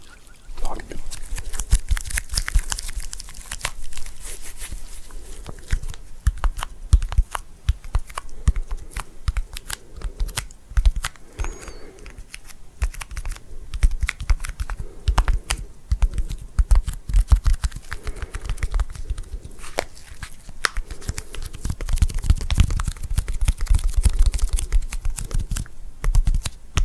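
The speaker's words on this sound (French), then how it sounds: "Une petite éponge qui fait un bruit faramineux." Small sponge squeezed and rubbed close to the microphone, producing a steady stream of loud, dense crinkling and crackling for nearly half a minute with no talking.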